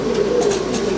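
Racing pigeons coo in a low, steady murmur at close range, a soft continuous throaty drone with faint higher chirps drifting over it and no talking.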